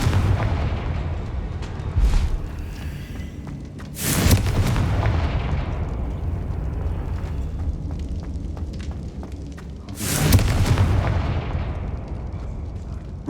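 Booming blasts from the Confringo fire spell in Hogwarts Legacy, two loud explosive bursts about six seconds apart over a constant rumbling battle bed, with no talking.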